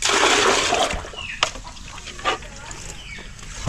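Water pours loudly into a clogged kitchen sink drain, a close, heavy gush that thins to a softer trickle with a few thumps and splashes.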